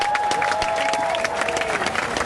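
A rally crowd in Tel Aviv's hostages' square claps steadily in sustained applause, a dense field of hand claps with a faint tone running beneath.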